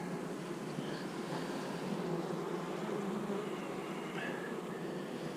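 Honey bees drone in a steady, dense buzz from an open hive, close up and continuous with no talking.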